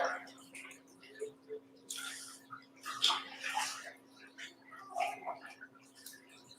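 Water sloshes and splashes softly as a person steps into a baptism pool at a church service, with irregular bursts of movement over a steady low hum and quiet murmured voices nearby.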